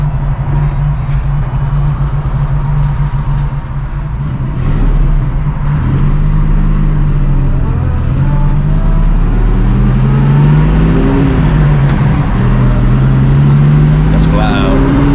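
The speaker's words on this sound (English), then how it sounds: "Sounds beautiful, this car." A 1954 Wolseley 6/80 engine pulls hard and close, its pitch rising through the gears with a smooth, steady roar while people talk over it inside the car.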